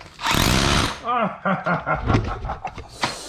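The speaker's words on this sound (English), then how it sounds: "I break my concrete out. And test hammer only." A rebuilt DeWalt 54V hammer drill pounds into concrete in a loud, rapid hammering burst, then cuts out into shorter stuttering bursts and pauses while someone talks over it.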